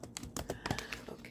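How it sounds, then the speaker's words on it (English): Quiet, irregular key presses on a laptop keyboard, a quick scatter of close clicks alone with no talking. "don't mind me if you hear me typing"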